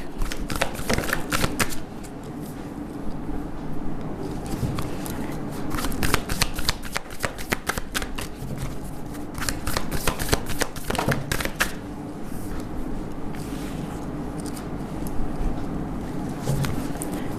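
Tarot cards shuffled by hand, a steady papery riffle and slap with sharp card-flick bursts throughout, close and fairly loud with no talking.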